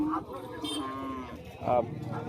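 Cattle at a busy livestock market in Rajshahi, with a low bovine moo rising briefly out of crowd chatter and market noise, while people talk nearby throughout.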